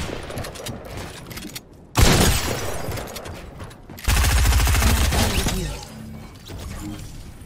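Bursts of Fortnite gunfire arrive in two loud volleys, a short crackling barrage and then a longer rapid stretch of shots, with quieter game ambience between and after.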